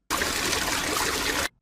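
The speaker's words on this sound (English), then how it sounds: "fountain" Fountain water trickles and splashes in a continuous, even stream, starting and stopping abruptly after about one and a half seconds with no voices.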